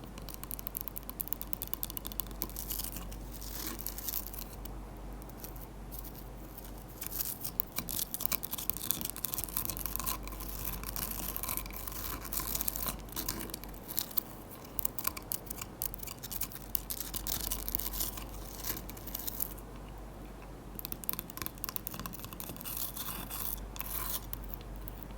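Ice being tapped and scratched by hand, with close, crisp irregular clicks and scraping textures continuing steadily throughout, no voice.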